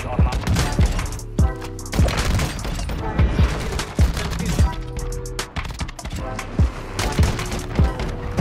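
Rapid, punchy KV Broadside shotgun blasts in Call of Duty Warzone 2, loud and close, firing in quick repeated bursts with sharp booming reports throughout.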